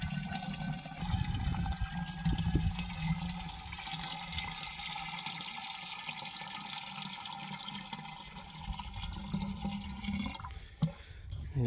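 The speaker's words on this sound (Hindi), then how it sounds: "पानी मैं ले आया हूँ और इसके अंदर ऐड करते हैं पानी।" Fresh water gushes into a public drinking water container, a continuous splashing, gurgling pour with a low rumble beneath it that stops abruptly near the end, followed by a brief clunk.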